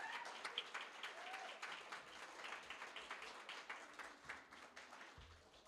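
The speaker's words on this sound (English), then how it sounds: "will the people that are seated please clap for the people that are standing?" An audience at an anniversary celebration gives seated applause for those standing, a faint, steady patter of many hands clapping from across a room.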